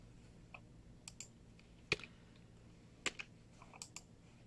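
Someone types on a computer keyboard while partitioning a Linux install, giving scattered, quiet key clicks in an uneven rhythm with a couple of sharper, louder strikes and short gaps between them.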